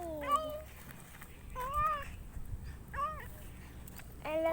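A cat being fed meows four times at roughly one-second intervals, short rising-falling mews close by, with faint eating and handling noises and a low hum between them.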